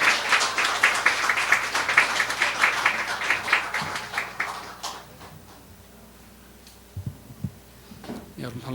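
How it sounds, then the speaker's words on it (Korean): Church congregation applauding to welcome a missionary to the pulpit, a dense wash of clapping that fades out over several seconds, followed by a quiet room with a few scattered sounds. "우리 할렐루야로 박수로 환영하겠습니다."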